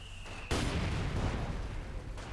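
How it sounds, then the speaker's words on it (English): An incendiary grenade in Company of Heroes 2 bursts with a sudden loud blast that swells into a dense roaring rumble, lingering for about two seconds. "Incendiary grenade there."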